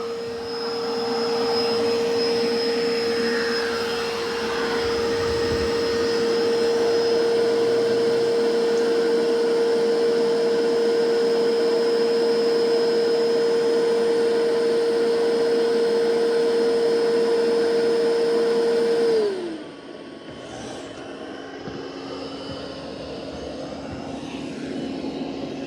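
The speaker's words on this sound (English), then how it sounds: "And it did ramp the suction up." A Dreame X60 Max Ultra robot vacuum runs with its suction ramped up, a loud, steady whine with a sustained tone that drops abruptly to a lower, quieter hum near the end.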